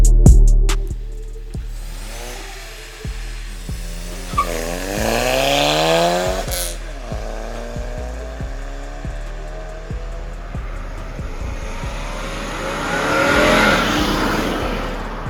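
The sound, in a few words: tuned Skoda Laura TSI and Abarth Punto accelerating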